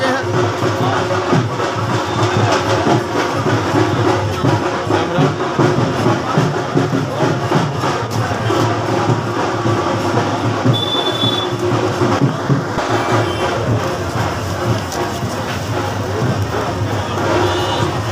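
A train passes near a railway station, its rumbling wheels and squeals carrying over a busy, murmuring crowd, loud and continuous throughout.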